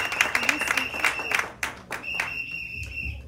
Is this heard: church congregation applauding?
yes